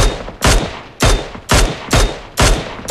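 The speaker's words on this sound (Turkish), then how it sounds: "sağdan biri sıkıyor" Sharp gunshots from a sniper-mode video game match fire at a steady pace, six loud, close reports about half a second apart, each with a short decaying tail.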